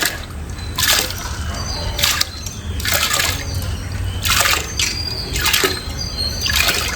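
About 1.5 kg of lentils are tipped into a large pot of hot water for festival cooking, making several loud splashing, sloshing bursts in quick succession.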